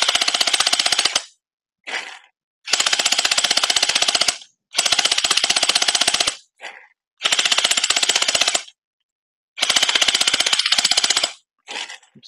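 A Glock-style gel ball blaster fires in rapid bursts, each stretch a dense mechanical rattle lasting one to two seconds, separated by short pauses, close and loud with no talking.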